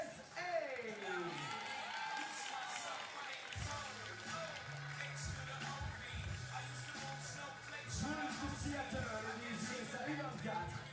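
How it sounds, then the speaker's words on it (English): A crowd at a FIBA 3x3 women's basketball finals in Bordeaux claps and cheers for team USA, a steady wash of applause beneath an announcer's amplified voice and arena music. "Du bruit, des applaudissements pour la team USA!"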